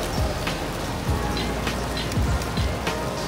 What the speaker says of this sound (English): it's so rainy and so cloudy. It's pretty much storming.